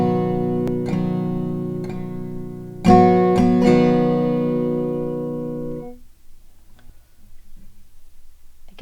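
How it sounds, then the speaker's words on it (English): An acoustic guitar plays a simple strum pattern of five down strums and one up, crisp separate strokes building into a ringing chord that fades away, followed by near silence. "For the right hand, we will be using a simple strum pattern,"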